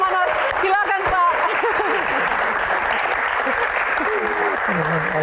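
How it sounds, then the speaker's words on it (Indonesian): Dense, loud applause from an audience at a film Q&A session, a continuous wash of clapping with a few voices and cheers mixed in, sustained throughout. "Tepuk tangan buat Pak Manoj"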